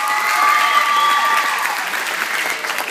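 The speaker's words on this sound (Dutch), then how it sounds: "wij doen dat ondersteunen met een heel zwaar, diep en plechtig applaus" A group gives a loud, sustained round of applause for Suzanne at a team camp, dense clapping close by that swells slightly and then eases off a little toward the end.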